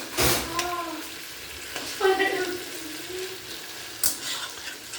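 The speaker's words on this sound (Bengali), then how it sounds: "তো এইভাবে দেখো আমি তরকারিটা ভালো করে বানিয়ে নিচ্ছি, আর যতক্ষণ মশলা থেকে তেল না ছেড়ে আসে ততক্ষণ নাড়তে থাকবো" A fish curry is stirred while its spices fry in oil, giving a steady sizzle broken by sharp scrapes of the spoon against the pan, with a brief tonal whine between the strokes.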